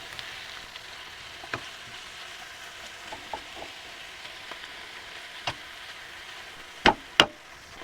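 Garlic and ginger sizzle faintly in a curry pot over an off-grid cooking fire, a soft steady hiss broken by a few scattered clicks and two sharper knocks near the end.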